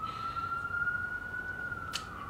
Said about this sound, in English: Sorry about the ambulances. City life.